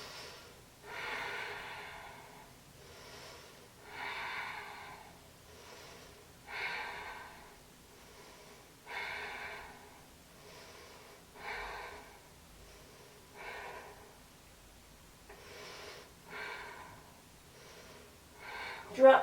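Slow, deep breaths during a yoga ab workout, audible rhythmic inhales and exhales repeating about every two to three seconds, close and fairly quiet, no talking.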